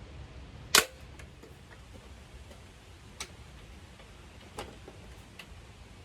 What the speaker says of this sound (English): That little connector bolts right in, and snaps right on